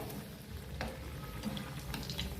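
A snack fries in oil in a pan, a steady low sizzle and bubbling with a few soft stirring clinks, no talking.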